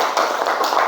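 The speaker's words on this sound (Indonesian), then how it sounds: "Oke, tepuk tangan." Pupils in an Arabic-language classroom clap their hands together, a short burst of quick, close, overlapping claps.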